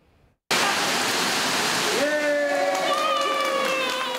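Rushing water roars loudly and steadily at a renovated indoor aquatic park with a 101-foot water slide, a broad continuous wash that begins abruptly, with faint voices and shrill whistle-like tones rising over it.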